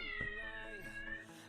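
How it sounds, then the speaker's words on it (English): A cat meows and wails outside, its drawn-out, wavering cries carrying at a moderate distance and filling the moment with no talk over it. "There's actually a cat outside, if you can be able to hear that."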